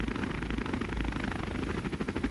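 Helicopter from the Minecraft video game, a steady rotor drone with an even low thrum held loud and unbroken, with no talk over it.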